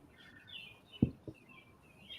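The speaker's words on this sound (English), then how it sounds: "Yeah, you probably hear my birds. Sounds like a cardinal." A cardinal sings outdoors, faint whistled phrases in the background, with a couple of soft nearby knocks partway through.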